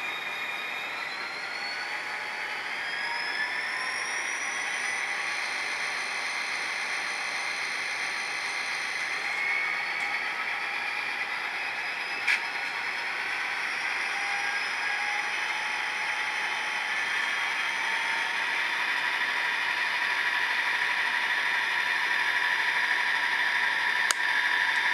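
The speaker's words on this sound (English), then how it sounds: "You'll hear the motor revving" An HO scale CSX SD40-2 model locomotive motor whines steadily as it throttles up while standing still, a thin high-pitched electric hum with rising tones, faint ticks and a constant hiss.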